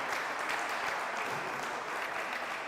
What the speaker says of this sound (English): As the five seniors on the floor getting a round of applause.